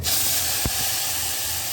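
Steady broadband hiss of spices and chili sizzling in hot oil for tomato saar, continuous and close, with a brief soft knock partway through.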